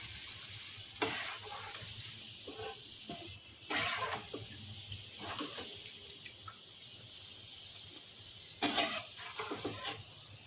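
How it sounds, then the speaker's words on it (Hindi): Raisins frying in oil over low heat, a soft sizzle punctuated by a few bursts of louder hissing and scraping stirs, close and fairly quiet with no voices. "ये किशमिश पहले फ्राई करके निकाल लेंगे"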